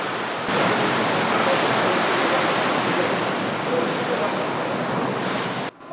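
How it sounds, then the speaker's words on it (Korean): Simulated typhoon-scale waves of about six metres surging over a breakwater in a wave tank, a dense continuous roar of rushing water and spray, loud and close, cutting off abruptly near the end. "밀려온 파도는 여지없이 방파제를 넘고 만다"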